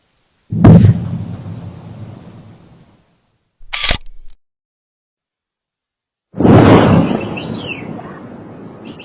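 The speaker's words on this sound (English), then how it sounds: "it is possible you heard a large explosion this morning" A deep, booming explosion rolls out and fades over a couple of seconds, followed by a short sharp crack and then another heavy rumbling blast.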